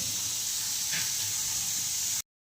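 Onion roasting in a pan for gravy, a steady, even sizzle and hiss held without change for about two seconds before cutting off abruptly to silence.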